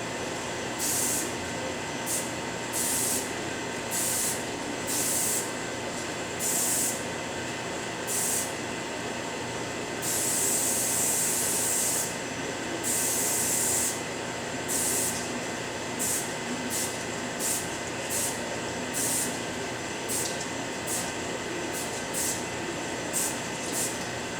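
Repeated short hissing bursts of a spray paint can laying down graffiti, some brief and one longer, over a steady low background hum.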